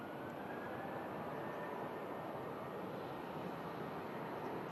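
A retiring Boeing jet airliner, registration G-LSAJ, rumbles in a steady, broad engine roar during its full-length takeoff run at Manchester Airport, heard from a distance without any nearby voices.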